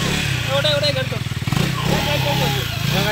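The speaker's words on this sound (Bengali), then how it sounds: "বাইকের সাউন্ড শুনলে দেখ না, চলে যাবে।" Motorcycle engine idling and pulsing nearby, a steady mid-pitched throb under people talking over it throughout.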